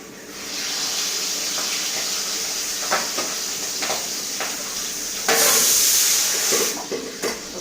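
Steady hissing and bubbling from a pot of rice on the boil, with a surge of louder steam-like hiss near the end; no voices.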